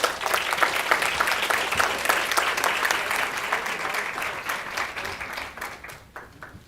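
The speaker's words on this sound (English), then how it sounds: "Give him another round of applause." Audience at a National Urban League conference breaks into sustained, steady applause, dense clapping filling the room and tapering slightly toward the end.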